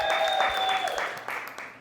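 An audience at a Startup San Diego event applauds for Lisa, a short burst of loud clapping that fades toward the end, with a sustained tone running under the first half.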